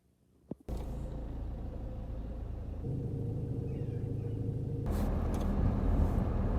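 Road traffic heard from inside a vehicle stuck in a jam, a sudden onset of steady low engine and road rumble that carries on evenly, then swells louder near the end as nearby traffic grows busier; no one speaks.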